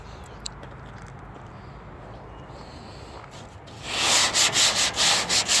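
Sanding a car body panel: after a quiet stretch of faint room noise, a rhythmic series of close, loud abrasive strokes begins and repeats in even back-and-forth passes.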